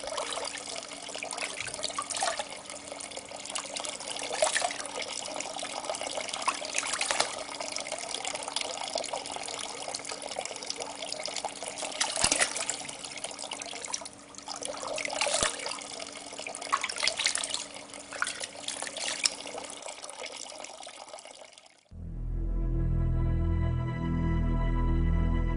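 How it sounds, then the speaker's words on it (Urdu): Spring water in the Sinai desert runs steadily from an old iron pipe with a close, even splashing flow for about twenty seconds, then abruptly gives way to tonal music. "یہ ایک دوسرا چشمہ ہے جس کو بنی اسرائیل نے استعمال کیا تھا اور صحرائے سینا میں آج بھی قائم ہے۔"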